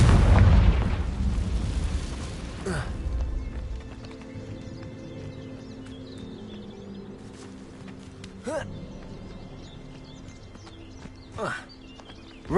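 A Confringo blasting spell in Hogwarts Legacy detonates with a loud, booming explosion at the start that rumbles and fades over a few seconds, followed by sparse softer impacts and thuds.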